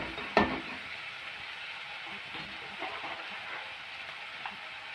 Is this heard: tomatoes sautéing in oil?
yes